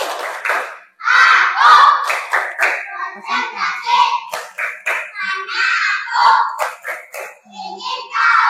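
A class of Indonesian schoolchildren shouts a clapping chant together, with sharp hand claps punctuating loud, overlapping young voices in a steady, lively rhythm that continues for several seconds.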